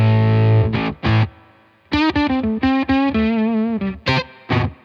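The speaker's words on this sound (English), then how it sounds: "the Argonaut is just an octave up, cleanish octave up" Electric guitar through a Mythos Argonaut octave-up pedal, a cleanish upper-octave effect: a low sustained chord, then choppy muted stabs and a gritty, ringing melodic phrase with short bursts, loud and close.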